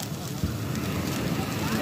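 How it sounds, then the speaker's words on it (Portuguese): A bonfire burns in Blaubeuren, Germany, giving a low, rumbling roar with soft crackle and wind-like rushing that stays steady and partly masked as people talk nearby. "Olha o fogo."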